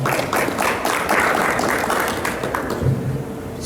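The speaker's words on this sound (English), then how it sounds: "So give them a big round of applause for the Punch team." An audience claps for a cricket team at a live player draft event, with steady, dense applause filling the room throughout.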